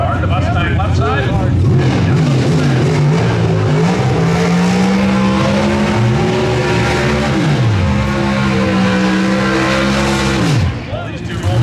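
A Pro Stock drag racing Mustang runs down the strip at the NHRA Winternationals, its loud engine roaring and climbing through rapid gear changes for about ten seconds while a commentator talks over it.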